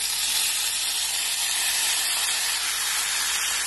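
Chopped tomatoes sizzle and hiss loudly in a hot pan, a steady crackling fry with no voices.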